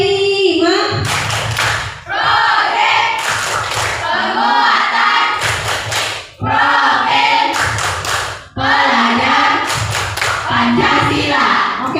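A classroom of students claps together in a rhythmic clap game, loud bursts of group clapping in repeated patterned sequences separated by short pauses.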